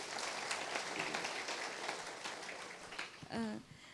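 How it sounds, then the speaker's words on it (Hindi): An audience at a talk claps together in a soft, fairly distant burst of applause that fades out, with a voice briefly heard at the end. "उनके लिए तालियां बजाएंगे एक बार"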